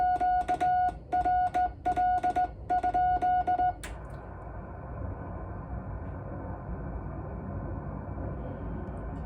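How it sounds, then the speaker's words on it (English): Morse code QRL keyed on a restored Kenwood TS-830S ham radio transceiver: a run of short and long steady tone beeps in a clear rhythm for about four seconds, followed by quiet receiver hiss. "I'll send out a QRL."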